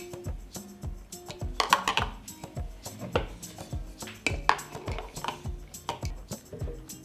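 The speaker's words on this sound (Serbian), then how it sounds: "na dno stavljam krpu u kojoj ćemo kuvati tegle i unutra stavljam i tegle" Glass canning jars set down one after another onto a cloth lining the bottom of a cooking pot, giving repeated soft clinks and knocks with brief glassy rings, close and fairly quiet.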